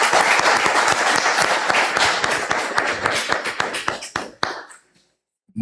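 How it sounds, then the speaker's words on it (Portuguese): Audience applause at a municipal council session, honoring a community group: dense, loud clapping from a crowd that thins into scattered individual claps and fades to silence. "Gostaria de uma salva de palmas para o Grupo Oficina Clau."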